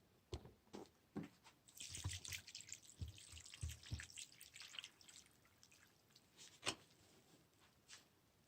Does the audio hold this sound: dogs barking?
no